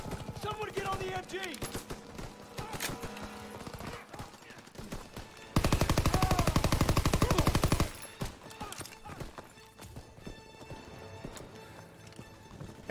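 Machine gun fire in Call of Duty: WWII during a nighttime battle, rapid dense bursts that swell into a loud sustained stretch midway, mixed with other gunfire, shouted voices and game sounds.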